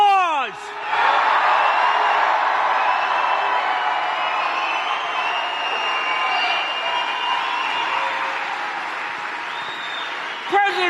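A large crowd at a President Trump rally in Juneau, Wisconsin breaks into loud, sustained applause and cheering, holding steady for about ten seconds before fading as a voice returns.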